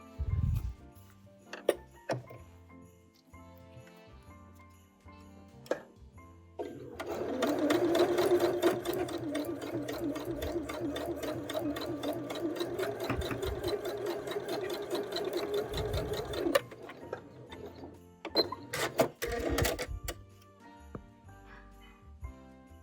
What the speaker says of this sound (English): I've got the 2 pieces lined up together, and I'm ready to stitch them.